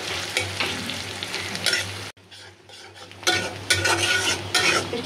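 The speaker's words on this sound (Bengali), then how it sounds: "খুব সুন্দর করে ভাজা ভাজা হয়ে গেছে।" Beef liver and potato pieces sizzle and fry in a pan while being stirred, a steady loud crackle with scraping of the utensil, briefly dipping quieter midway before the frying swells again; no talking.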